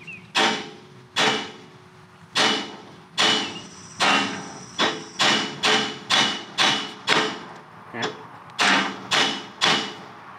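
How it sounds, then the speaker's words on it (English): Sharp metallic hammer strikes knock out the wheel lug studs on a boat trailer hub being rebuilt, about seventeen close, loud blows in uneven bursts, each ringing briefly before the next. "So what I'm gonna do is just take a hammer"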